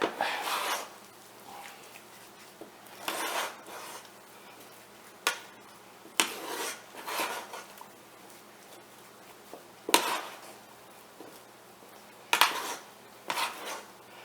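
Homemade carp doughball bait mixture is stirred in a pot, giving intermittent scraping clatters of a spoon against the pot in irregular bursts separated by quiet pauses, close and fairly soft.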